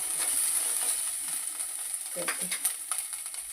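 Finely chopped onion sautéing in oil for cauliflower pulao, a continuous close sizzle with soft stirring scrapes, while someone briefly says a word near the end.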